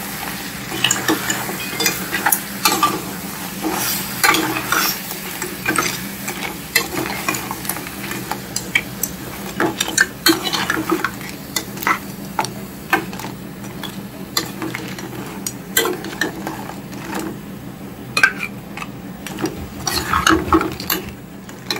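A ground paste of spices, tomato and coconut is stirred and fried in a pan for a crab masala, giving steady sizzling with repeated scraping and clinking of a utensil against the pan, close up and without speech.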